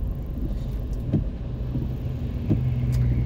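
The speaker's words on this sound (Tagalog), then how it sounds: "From here to town na talaga is traffic." Road traffic in a Philippine town, with cars passing at moderate distance under a constant engine rumble and occasional louder swells, no voices.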